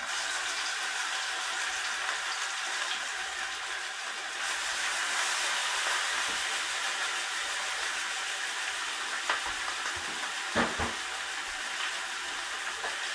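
Trout fillets frying skin side down in a pan over an open outdoor burner, a continuous bright sizzle and hiss with a few sharper pops and crackles near the end.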